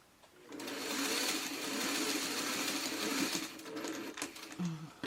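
A sewing machine stitches quilt pieces together for a steady run of about four seconds, a close, continuous mechanical whirr that starts and stops cleanly.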